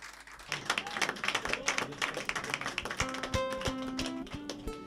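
Crowd clapping at a live music show in a Berlin venue, a burst of scattered, uneven claps that rises and thins out, with a sustained musical tone entering near the end.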